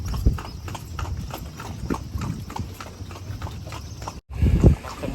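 Hooves of a horse pulling a carriage clip-clop steadily on a Lampang street beside the Wang River, close and continuous, with a brief dropout near the end.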